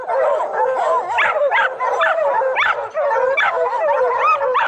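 Hunting hounds bay at a bear treed on a ridge, a loud, near chorus of overlapping howls, yips and barks that continues without a break.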